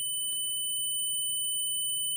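A multimeter's continuity buzzer sounds one unbroken high-pitched tone while an IRFZ44N MOSFET is tested for a short. The beep holds loud and steady for the whole moment over faint background noise.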